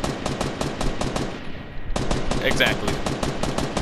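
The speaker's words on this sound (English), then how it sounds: "I don't know why you trying to shoot me." Rapid automatic gunfire in the Fortnite battle royale video game, dense rhythmic bursts that pause briefly and resume, with a short spoken word over the shooting.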